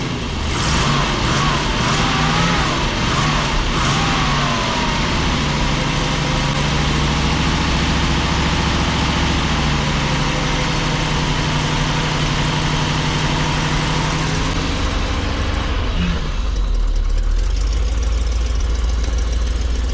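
A cold RV engine idles loudly while warming up, with the gas pedal gently feathered to keep it running. The steady, rumbling drone carries throughout and shifts in tone near the end, with no voices.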